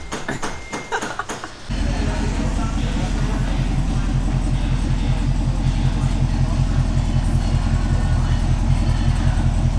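A Camaro V8 with an X-pipe exhaust and its valves open rumbles loud and close. A few brief knocks come first, then a steady, deep, pulsing idle drone holds throughout.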